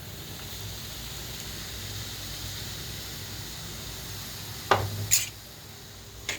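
Semolina (rava) roasting in ghee in a pan, a soft steady sizzle with a faint hiss, broken near the end by a few sharp scrapes and clinks of stirring.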